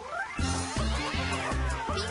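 Cartoon cats caterwauling outside in a loud, discordant cacophony, with a few harsh repeated yowls and a rhythmic pulsing underneath, close and brief.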